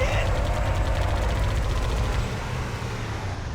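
Continuous gunfire and battle noise from the video game Halo: Combat Evolved fill the clip at steady loudness, a dense layer of shots and low rumble with no clear pause.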